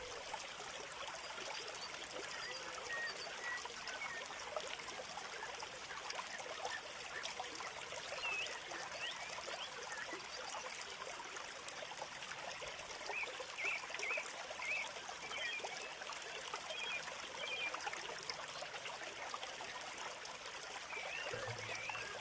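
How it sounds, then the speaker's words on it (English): Water pumped out of a drained koi pond pours and trickles steadily into the garden, a continuous close splashing wash with faint birdsong in the background. "I'll just pump it all out"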